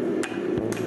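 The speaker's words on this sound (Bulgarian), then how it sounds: "да ви кажа с този механичен чук" A mechanical hammer at a forge strikes metal on the anvil, giving two sharp clanging hits over a loud, steady machine hum.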